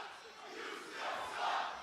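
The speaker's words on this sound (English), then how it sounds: "It was such a nice drop kick that the crowd chants, "You still suck."" Wrestling arena crowd at an AEW Collision event chanting together after a drop kick, a broad sustained roar of many voices that swells toward the end, heard from a distance.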